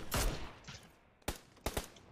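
Gunfire from a Mini rifle in PUBG Lite: a loud opening shot, then after a pause two or three sharp single shots in quick succession, close and clear, with no talk.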